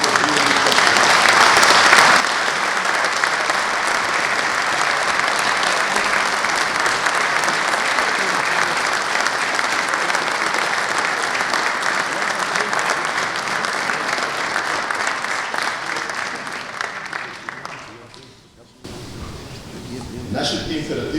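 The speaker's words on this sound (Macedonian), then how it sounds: "че замолам со еден аплауз да ги поздравим кошаркарите" An audience gives sustained applause for a basketball club's players at its 50th-anniversary event, dense steady clapping from a crowd that tapers off near the end before a voice resumes.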